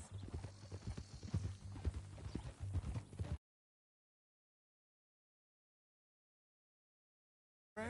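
Horse hooves clip-clop in the video game Red Dead Redemption 2, a steady run of close hoofbeats for about three seconds, then sudden silence until a brief return at the end.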